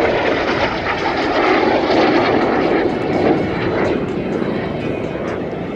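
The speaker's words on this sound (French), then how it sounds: "Turboréacteur d'ancienne génération" An older-generation turbojet aircraft from the 1970s era flies past at an air show, its loud broadband engine roar holding steady and then slowly fading. No one speaks.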